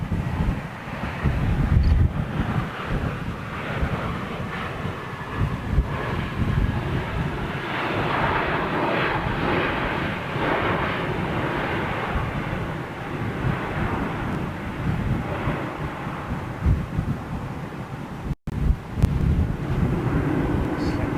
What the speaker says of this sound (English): I heard engines.